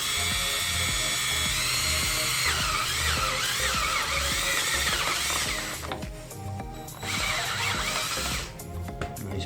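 Power drill boring a hole through PVC pipe for a small DIY drip-system overflow, a steady high whine that rises and dips as the bit bites in, with brief lulls near the end.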